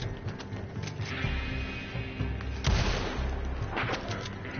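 Gunshots in the Western online game Red Dead Online, a couple of muffled booming shots rising out of a steady, busy layer of game ambience and mechanical noise, fairly quiet overall.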